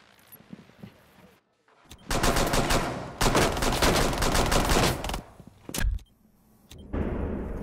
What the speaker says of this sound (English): I was shooting at her head the entire time, though.